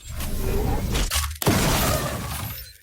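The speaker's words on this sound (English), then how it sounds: "that's what the gun sounds like without a suppressor" An unsuppressed gunshot from a video game in development fires as a sharp, loud crack with a shattering burst, followed by a decaying tail and a brief pause.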